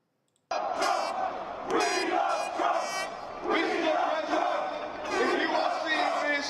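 Crowd of Trump supporters gathered in the United Kingdom, chanting and cheering together in loud rhythmic bursts that start abruptly and swell and fall across the clip, with many voices blended into a dense roar.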